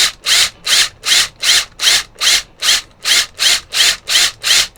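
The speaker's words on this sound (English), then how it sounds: "Don't want the material to get caught in the drill and torque it out of our hands" A power drill is pulsed while boring a hole in material, making about eleven loud, evenly spaced bursts of gritty whirring, close by and with no speech.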